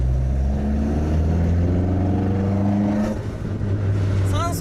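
A 35-year-old Toyota AE86 tuned by Keiichi Tsuchiya revs hard under acceleration inside the cabin, its engine note climbing in pitch before a shift around the third second, then rising again.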